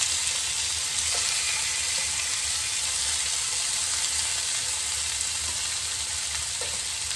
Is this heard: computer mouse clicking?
no